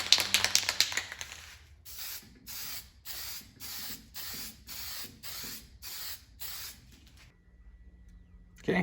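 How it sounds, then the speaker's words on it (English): Series of short hissing bursts from a spray can of lacquer coating a wooden socket organizer, roughly ten evenly spaced sprays, close by, after some brief clattering at the start. "couple coats of spray lacquer and we'll be done."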